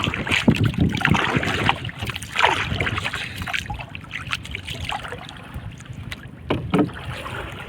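Wind buffets the microphone over lapping water and the creak and splash of a small boat, steady and close throughout.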